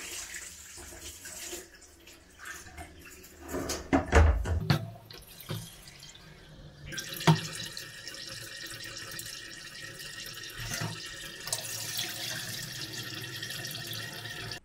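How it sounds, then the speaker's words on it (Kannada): Rice grains being rinsed under a running kitchen tap for dosa batter, with a steady hiss of flowing water, irregular splashes and drips, and a few louder sloshing bursts as the grains are swirled in the vessel. "ಇವಾಗ ಈ ಅಕ್ಕಿಯನ್ನು ನೀಟಾಗಿ ವಾಷ್ ಮಾಡಿಬಿಟ್ಟು"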